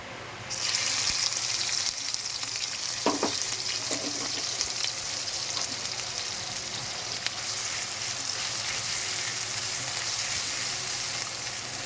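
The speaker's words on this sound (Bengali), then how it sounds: "তেলটা গরম হয়ে গেছে, আমরা এবার পেঁয়াজ বাটাটা দিয়ে দেবো।" Onion paste goes into hot oil for a prawn malai curry, giving a steady, close hiss of frying that keeps sizzling evenly throughout, with a couple of brief stirring scrapes early on.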